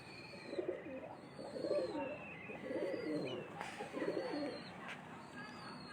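Pigeons coo repeatedly at a breeder's loft in Mirpurkhas, producing soft, low rolling calls in overlapping bursts at close range, with faint background noise between them.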